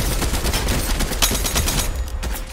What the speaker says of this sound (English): Oh, no! Stop shooting at me!